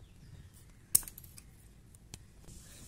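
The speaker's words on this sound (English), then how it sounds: "now we are going to use scissors to cut a little bit of more" Scissors snipping a plastic bottle ring for a doll hairband, with one sharp close click of the blades, then a lighter snip and faint handling noise in quiet surroundings.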